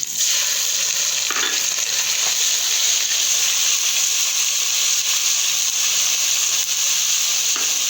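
Ginger garlic paste sizzling loudly with browned onions in a pan for an anda chana curry, a steady dense frying hiss that runs unbroken and close throughout.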